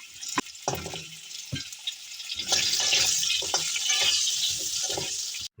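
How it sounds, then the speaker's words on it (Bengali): Pumpkin pieces go into hot oil in a kadai for shukto. After a few sharp clatters, a loud, continuous sizzle rises and holds, with occasional stirring knocks. "এবার কুমড়োটা ভাজবো"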